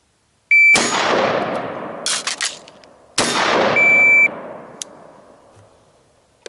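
Two loud rifle shots about two and a half seconds apart during a timed T1C rifle standards drill, each a sharp crack with a ringing decay, and the electronic beep of a shot timer sounding alongside.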